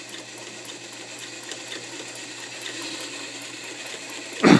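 A vintage all-steel Singer Fashion Mate 237 sewing machine runs a wide zigzag stitch at long stitch length, giving a steady, even mechanical whir with a light rhythmic chatter, then a louder clunk right at the end.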